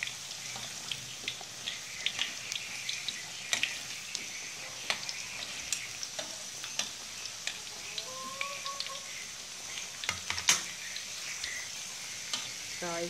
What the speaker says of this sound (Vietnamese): Rồi phần khoai với cà rốt mình chiên vậy là được rồi các bạn.